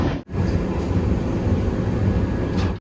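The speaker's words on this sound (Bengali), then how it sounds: "এখন ট্রেনের যে স্পিড আছে প্রায় 113 কিলোমিটার গতিবেগে যাচ্ছে।" Howrah Puri SF Express train running at about 113 km/h, a steady, loud rumble and rattle of wheels on track heard from inside the carriage, continuous throughout with a brief dip near the start.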